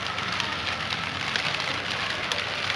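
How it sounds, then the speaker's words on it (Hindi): A sudden heavy downpour in Karachi makes a loud, continuous wash of rain striking nearby surfaces, with a few sharper splashes in the steady roar. "ये देखें कितनी तेज सी बारिश हो गई है,"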